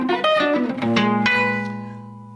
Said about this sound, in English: Nothing but a flat 9 chord.